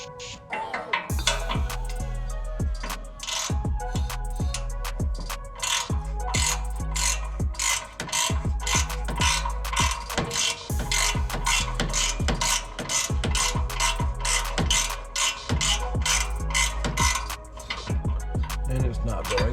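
A ratchet turns a 1.5-pitch thread tap in a damaged O2 sensor bung, producing loud, close, rapid and continuous clicking of the pawl in steady bursts throughout, with brief pauses between strokes.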